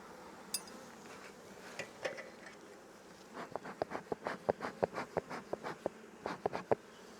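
Honeybees buzz around an opened hive during an inspection, a faint hum broken by a run of soft taps and knocks from handling the frames.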